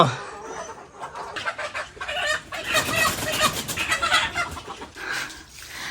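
Several chickens cluck nearby, busy overlapping calls rising and falling, with some faint background murmur.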